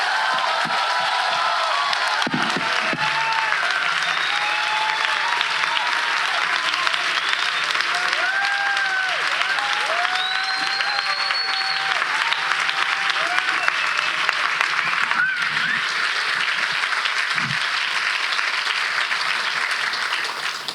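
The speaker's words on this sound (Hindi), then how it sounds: "आइए हम अपने प्रभु के लिए एक अच्छी ताली बजाएंगे।" A church congregation claps loudly and continuously for about twenty seconds, a dense close wash of applause with occasional whoops and cheers, and a voice cutting through intermittently.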